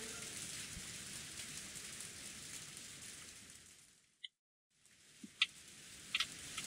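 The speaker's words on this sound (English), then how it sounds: "I don't like the rain." Steady, dense rain hiss from the visual novel Umineko When They Cry fills the first four seconds, then cuts abruptly to silence, followed by a few sharp, isolated clicks.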